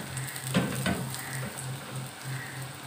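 Cumin seeds crackle and sizzle in hot oil in a pan: a steady frying hiss with a low hum beneath it and a couple of brief louder pops near the start. No one speaks.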